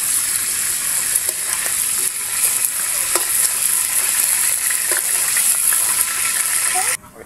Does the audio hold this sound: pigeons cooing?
no